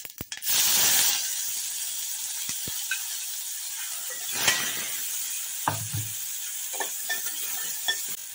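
Onions and cumin seeds hit hot oil in a pan with a loud initial sizzle that settles into a softer, steady frying hiss, broken by a few stirring clinks and scrapes.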